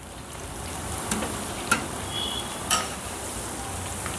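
Telugu-style soft pakodi batter, mixed with chopped mint, frying in hot oil, with a faint steady sizzle and three brief clinks from stirring.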